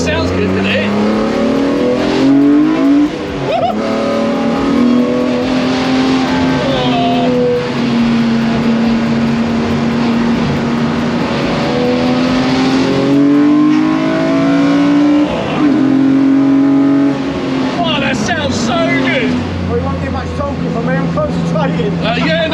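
A 390 bhp BMW E36 race car fitted with core silencers revs continuously at close range, its raspy engine note rising and falling in long sweeps over about twenty seconds, loud and sustained.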